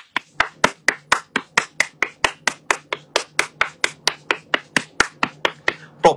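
Hand clapping by a single person, about two dozen sharp, evenly spaced claps in a steady rhythm, close and loud in a quiet room.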